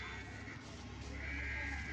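A lamb bleats in a steady, continuous cry that lasts the whole stretch, fairly close and loud, with a low rumble underneath and no talking.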